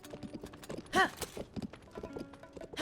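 A horse gallops in the video game Zelda: Tears of the Kingdom, with rhythmic clip-clopping hoofbeats throughout and a brief whinny partway through, the hooves fairly soft and close.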